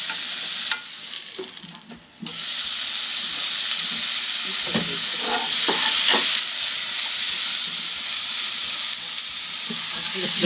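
Vegetables sizzle and hiss in a hot pan with added hot water while cooking vegetable yakisoba, with a few scraping stirs and clacks of a utensil partway through; no talking.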